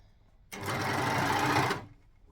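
A sewing machine runs in one brisk burst of just over a second, joining the sleeve seam of a rashie, starting sharply and trailing off into quiet.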